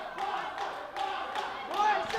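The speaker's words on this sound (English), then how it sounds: "Ref is warning Anslin's corner again for clapping their hands" A boxer's corner claps hands in a rhythmic series of sharp claps during a boxing match, heard at moderate distance in an arena ambience.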